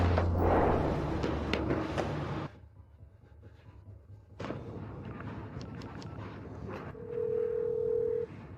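A telephone call is placed, with a short tone at the start, a burst of noise, then a quieter stretch and a steady ringing or dial tone near the end, heard alone without talk.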